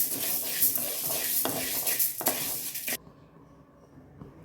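Urad dal stirred and dry-roasted in a pan, with a loose rattling, scraping rustle of the lentils against the metal for a few seconds, then stopping to a faint quiet hiss.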